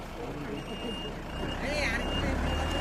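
A reversing beeper pulses steadily over the low rumble of a vehicle backing up on a road, with people talking nearby.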